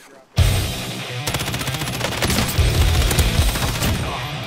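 Rapid bursts of gunfire in the Warzone video game, loud and sustained over a few seconds, starting abruptly after a brief quiet moment with dense repeated shots.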